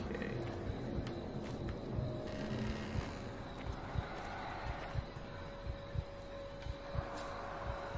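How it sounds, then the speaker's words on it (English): Enemy heartbeat from the horror game Maid of Sker, down in a mine: a steady series of low, muffled thumps repeating at a regular pulse under a dark ambient drone, with no talking. "Oh, I can hear the dude's heart beating now."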